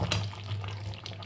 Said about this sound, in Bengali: তো আবার আমি নাড়াচাড়া করে নেবো ভালো করে।